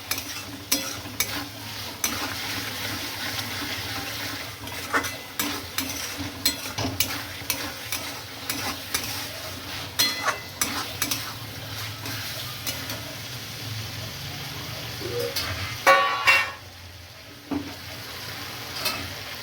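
Potato curry being stirred and fried in a pan, with repeated scraping strokes of a spoon against the pan over a steady low sizzle, close and fairly loud, continuing throughout with no talking.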